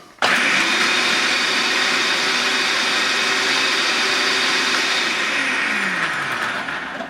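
A blender purees a small batch of Moroccan chermoula sauce with garlic, paprika and toasted seeds in a large jar: one loud, steady motor whir starts abruptly and holds for several seconds, then tapers slightly, with no voices.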